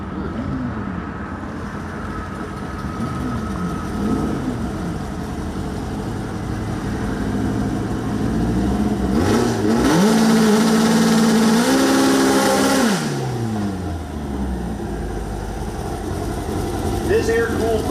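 An air-cooled VW Bug drag car engine idles and revs at a drag racing track, rising to a louder sustained rev midway before settling back, with a voice talking over it throughout.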